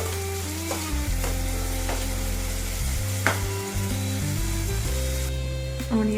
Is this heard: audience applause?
no